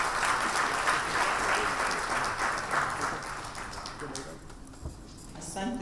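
An audience gives sustained applause after a speech at a Kenyan county government policy launch. The clapping is dense and fairly loud throughout, thinning slightly toward the end.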